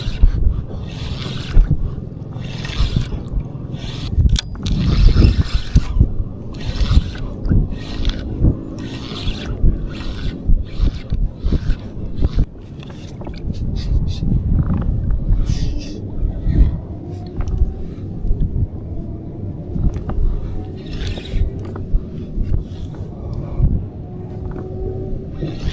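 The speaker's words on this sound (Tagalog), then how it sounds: "Kusog ng hangin, no?" Strong wind gusts buffet the microphone while kayak fishing at sea off Cebu, Philippines, a steady low rumble of wind and water over the full stretch with brief quieter lulls and faint voices underneath.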